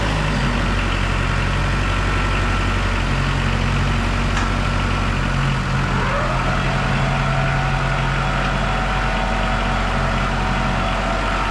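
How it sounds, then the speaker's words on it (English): A small farm tractor engine runs with its scraper blade down, making a loud, steady, close-up drone. Its tone shifts slightly about halfway through, with no voices. "I love this little tractor."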